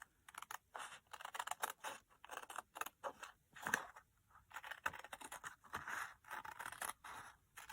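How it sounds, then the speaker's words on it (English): Small scissors snip through card along a drawn line for a handmade card, a steady run of close, crisp cuts and scrapes with short pauses between bursts and no talking. "I can cut on the inside of the line, hopefully."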